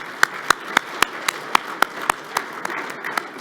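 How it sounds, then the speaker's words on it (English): A conference audience at a soybean summit claps sparsely, with about a dozen sharp, separate hand claps spaced fairly evenly and fading toward the end over a quiet room background. "Let's give Jonathan another round of applause"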